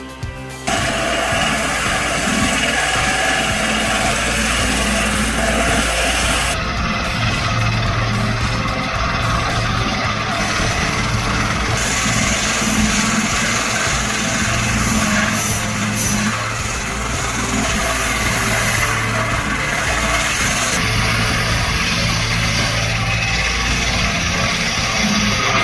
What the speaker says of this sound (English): equipped with a large circular saw blade, powerfully cuts through massive logs